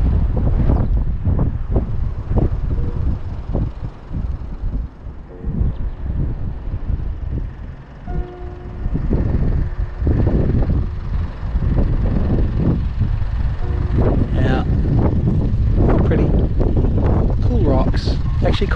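Strong wind buffeting the microphone at a rugged coastal lookout on Chatham Island, loud gusty rumble throughout with people talking over it.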